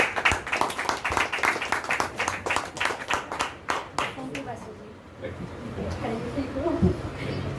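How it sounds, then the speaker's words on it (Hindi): A congregation at a Hindi church service claps hands in a quick, rhythmic burst that thins out into scattered claps and room murmur, with voices talking underneath. "आइए ताली बजाकर।"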